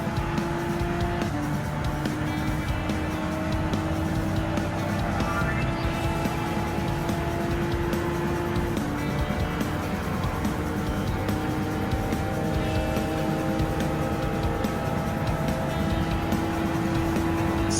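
A Honda NSX '17 race car laps Daytona International Speedway in Gran Turismo 7, its engine holding a steady high whine with gradual pitch shifts through gear changes, loud and continuous for the whole stretch.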